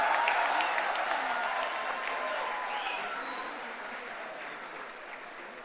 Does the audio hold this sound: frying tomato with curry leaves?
no